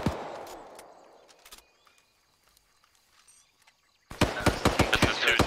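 Enemy gunfire in ARMA 3, early-2000s Delta Force setting: a loud opening blast decays over a second, a quiet stretch of faint distant pops follows, then a burst of sharp, rapid shots closes it out.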